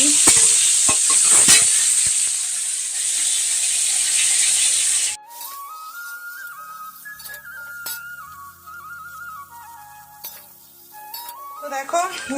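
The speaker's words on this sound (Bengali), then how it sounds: "আর রাখো কড়াতে আমি জিরে ফোড়ন দিয়ে দিয়েছি টমেটো দিয়ে নিলাম" Tomatoes fry over a cumin tempering in a kadai, giving a steady, fairly loud sizzle for about five seconds. The sizzle then gives way to a soft melodic tune with faint clinks.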